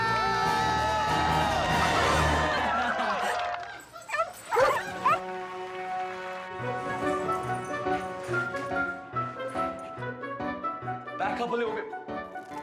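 A dog barks and yips excitedly amid loud, busy background sound, with people's voices mixed in and a steady stream of noise throughout.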